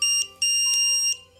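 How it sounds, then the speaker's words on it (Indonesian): A piezo buzzer on a flame-sensor circuit in a NodeMCU smart-home IoT setup sounds loud, steady high beeps in two bursts, with no talking. "maka sensor akan mendeteksi dan menyalakan buzzer."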